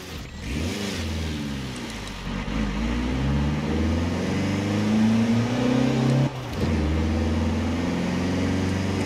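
Toyota Land Cruiser Arctic Truck driving off-road, its engine revving up and down steadily throughout, loud and close, with a brief dip in power midway before accelerating again.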